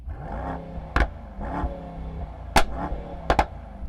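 A Mercedes-AMG GT engine, rev-limited at 4,000 rpm while stationary, revs in a few quick blips, each rising and dropping back to idle, with sharp pops at the peaks.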